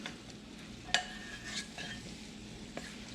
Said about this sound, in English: Gonna stir this up a little bit